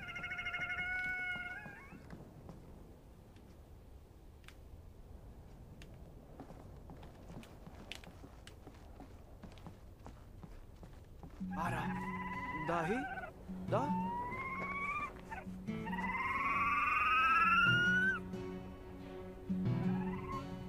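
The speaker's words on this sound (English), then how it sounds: "It's like a mix between a cat and a bird." Game creature from Brothers: A Tale of Two Sons letting out bright, rising cat-like yowls mixed with bird-like chirps, several calls in quick bursts over a low steady game background.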